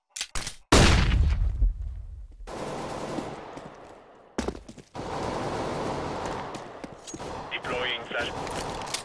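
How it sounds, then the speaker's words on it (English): Counter-Strike: Global Offensive match on the cobblestone map with heavy gunfire and game effects, including a loud burst and a flashbang bang with ringing noise, sustained dense sound throughout. "Throw in a flashbang."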